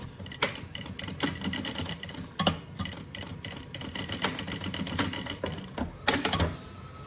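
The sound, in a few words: sewing machine stitching lining seam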